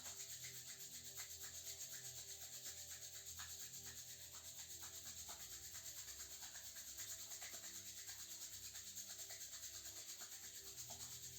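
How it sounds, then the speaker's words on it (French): Hands rub together palm against palm in a quiet, steady, rapid back-and-forth, a soft continuous friction close to the listener with no talking. "on vient frotter les mains l'une sur l'autre"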